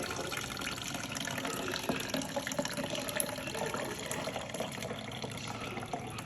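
Buko coconut juice poured for a fruit salad, a continuous close trickling and splashing of liquid at moderate level, steady throughout with faint background noise.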